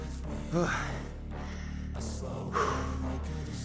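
A man breathes heavily after a set of bodyweight pull-ups, with two sharp gasping inhales and a sustained breathy exhale, up close and alone.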